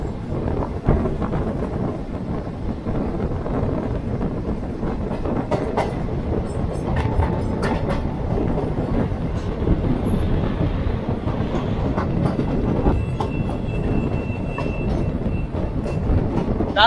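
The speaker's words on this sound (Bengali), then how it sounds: "এখন আমাদের ট্রেন ক্রসিং করবে 19166 দারভাঙ্গা আহমেদাবাদ সাবরমতী এক্সপ্রেস" Steady rolling rumble and clickety-clack of the 22-coach Darbhanga–Ahmedabad Sabarmati Express (19166) passing on the adjacent crossing track, heard continuously and close from inside a moving train, with some wind buffeting throughout.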